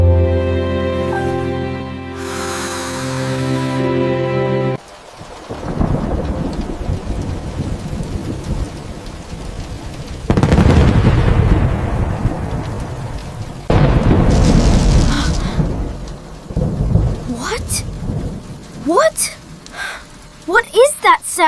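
Loud thunder rumbles and cracks in several heavy bursts over steady rain, with a short musical passage at the start.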